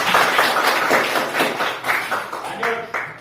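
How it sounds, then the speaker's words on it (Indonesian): A classroom group applauds after group 4's presentation with brisk, close hand claps that run for about three seconds, loud at first and then thinning toward the end. "tepuk tangan untuk kelompok 4"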